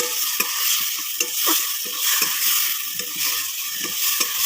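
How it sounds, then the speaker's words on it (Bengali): Fried potatoes are stirred into a pan of mustard-based topse fish curry, with a soft sizzle underneath and repeated scraping strokes of a spoon at a steady rhythm, close and clear, with no talk. "আলু ভাজাটা দিয়ে দিচ্ছি, দিয়ে একটু নেড়ে নিচ্ছি।"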